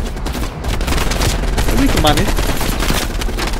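Gunfire in Call of Duty: Black Ops Cold War: dense, rapid automatic bursts crackle continuously at close range, with a brief spoken voice over the shooting.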